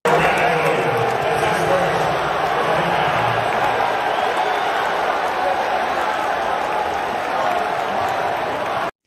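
Student section crowd at a South Carolina college basketball game chanting at a player, a continuous roar of many voices filling the arena, loud and sustained without a break.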